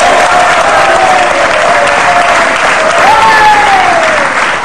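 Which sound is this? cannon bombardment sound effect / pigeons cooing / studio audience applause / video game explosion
studio audience applause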